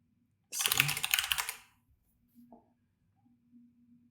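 Quick typing on a computer keyboard during live coding, a close burst of about a second of rapid clicking keystrokes, followed by a couple of faint isolated taps in otherwise quiet surroundings.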